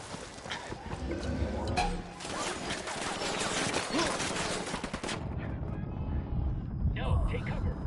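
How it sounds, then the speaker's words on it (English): Gunfire in Ghost Recon Wildlands, a rattle of automatic bursts and scattered shots over about five seconds under overlapping voices, then it drops off into quieter background with more talk. "Opening fire on these fuckers."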